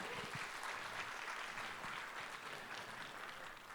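Steady applause from a crowd, dense clapping throughout, easing slightly toward the end.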